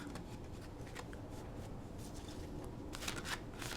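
Witch's Kitchen Oracle cards being shuffled by hand, a soft continuous papery riffling and sliding with a few sharper flicks near the end, close and steady.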